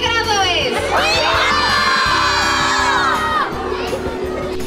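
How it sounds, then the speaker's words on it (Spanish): Schoolchildren at a prize announcement in Durango erupt in loud, sustained cheering and high shouts, a dense crowd of young voices whooping together through the whole stretch, with rhythmic low thumping underneath. "Porras, saltos y aplausos se unieron al escuchar el nombre de Kevin Jesús"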